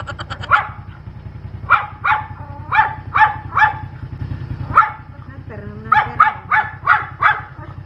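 A pack of many dogs barks in a busy, overlapping chorus. Repeated barks come in runs through the whole stretch, fairly near, over a continuous low motor drone.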